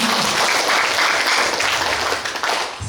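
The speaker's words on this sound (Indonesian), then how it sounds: "Kita beri tepuk tangan dulu." Audience applause after a university lecture on writing scientific articles, a dense, lively burst of clapping that carries throughout and thins near the end.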